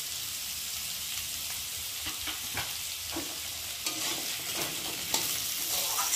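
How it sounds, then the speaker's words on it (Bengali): A steady, crackling sizzle of potatoes and garlic frying in a pan, with intermittent scraping and clinking strokes of stirring, no voices. "একটু ভালো করে নেড়ে দেবো।"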